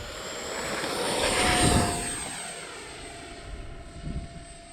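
A Fly Fans K-8 Red Falcon RC jet with a 6s electric ducted fan flies by, its whining fan swelling to a loud close pass and then fading into the distance, with no talk.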